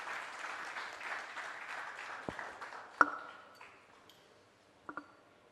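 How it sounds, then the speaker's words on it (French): A conference audience applauds at a business event on African banks and agribusiness, with clapping that fades out after a few seconds, followed by a few scattered claps and sharp knocks in a quiet room. "sous vos applaudissements"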